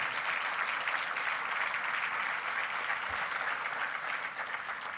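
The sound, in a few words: audience applause welcoming Garvi Gujarat newspaper editor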